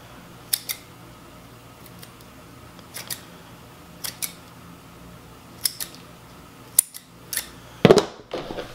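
Scissors trim paper for a 3D paper-craft Yoshi model, giving a series of sharp, close snips spaced a second or so apart in a quiet room, with a brief rustle at the end.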